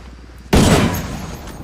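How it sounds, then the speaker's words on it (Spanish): A single loud gunshot in the video game Tom Clancy's Ghost Recon Wildlands: a sharp blast after a quiet moment, followed by a heavy rumbling tail that slowly fades. "Un disparo"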